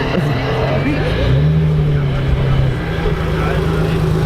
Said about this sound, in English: Corvette's gonna come do a pass